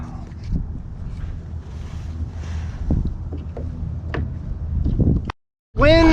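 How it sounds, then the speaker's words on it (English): Steady wind rushes across a creek while kayaking, a constant low broadband roar with small splashes and knocks over it, cutting to near silence briefly before loud gusts return. "Wind is back."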